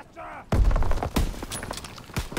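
Lee Enfield rifle shots and other gunfire in the video game Call of Duty WW2, sounding as a series of sharp, punchy bangs over about two seconds, mixed with an excited voice talking.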